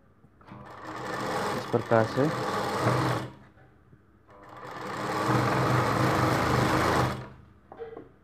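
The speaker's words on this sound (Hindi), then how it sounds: "इस प्रकार से पूरी मगजी में हमें सिलाई लगा देनी है।" A sewing machine stitches a lined magji border on a Rajputi dress, its fast whirring run sounding loud and close in two long bursts with a short pause between, and a voice is heard briefly.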